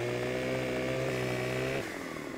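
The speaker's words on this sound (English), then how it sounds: "Pull out the chainsaw here." A chainsaw in the farming game Farming Simulator 15 drones steadily and loudly at close range, then its pitch and volume drop as it winds down near the end.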